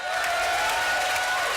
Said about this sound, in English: would you please give a big round of applause